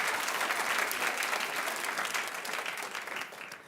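A television studio audience claps steadily on a talk show, a dense, even wash of applause that holds strong before tapering off near the end.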